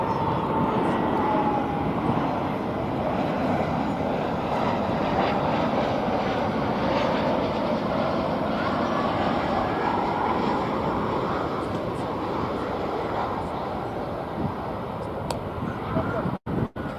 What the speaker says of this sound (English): Hard to miss a Spirit departure.